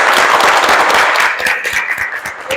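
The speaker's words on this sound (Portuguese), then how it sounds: "Uma salva de palmas, gente" An audience at a podcast recording bursts into loud applause, dense close clapping that thins and softens after the first second and a half.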